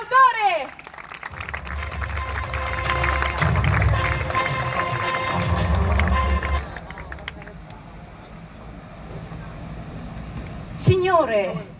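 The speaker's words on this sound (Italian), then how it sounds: "torniamo con un applauso per il TG dei falsi d'autore" Studio audience applause on an Italian variety show, a broad wash of clapping and crowd noise that swells and fades over several seconds, with voices and music around it.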